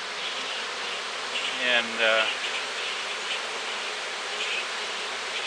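Swarm of honey bees buzzing outdoors, a dense continuous hum close by, with a voice speaking briefly over it.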